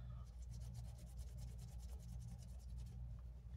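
Bay leaf stain remover rubbed by hand into a small stain on a cotton t-shirt, giving a soft, steady rhythmic scrubbing of fabric on fabric, close and fairly quiet, with no talking over it.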